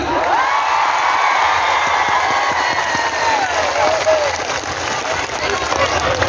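Fans at a preacher's religious gathering clap hard in sustained, loud applause mixed with scattered cheers and whoops, while a voice carries on talking above the steady crowd noise.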